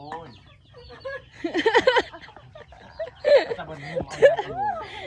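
Chickens cluck and squawk in agitated bursts while being caught, close and fairly loud, rising in flurries of excited calls over a low background hum.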